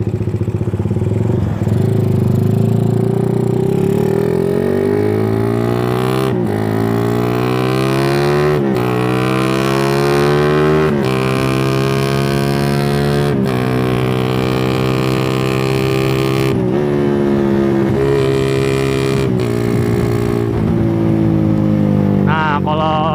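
A motorcycle revving hard at high RPM and changing gears without the clutch: loud, close engine roar that climbs in repeated rising sweeps, each cut by a brief dip at the shift, with wind noise throughout.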